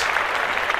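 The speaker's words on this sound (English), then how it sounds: "we're gonna clap that up to Katina, Washington, Indianapolis" Audience applause at a live She event, a steady dense clapping from a crowd that fills the whole stretch at moderate loudness with no talk over it.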